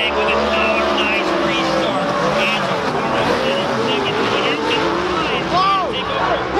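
Pro 4 race cars accelerate on a green flag restart, engines roaring and whining in rising and falling pitch as the pack passes, loud and steady beneath excited commentary.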